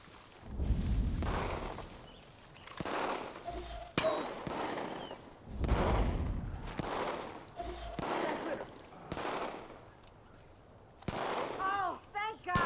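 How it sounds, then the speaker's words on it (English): Bursts of gunfire ring out in the video game Far Cry 5, repeated volleys of shots and rapid fire coming in waves, with a voice and game dialogue heard between and over them. "Sound of gunfire is never good."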